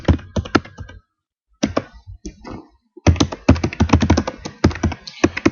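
A business address being typed on a computer keyboard: loud, close, rapid bursts of key clatter separated by short pauses, ending in a long continuous run of keystrokes with no voices.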